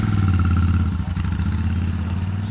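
A Super Meteor 650 motorcycle's engine holds a steady, deep rumble close by, loud and unbroken with no voices over it.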